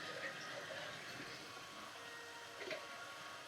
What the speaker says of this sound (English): I'm going to put water into the jar,